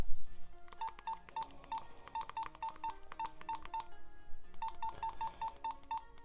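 Keypad tones from an old Nokia 2110 NHE-4NX mobile phone as codes are entered, short evenly spaced beeps in several quick runs over a steady background hum, close and fairly quiet with no talking.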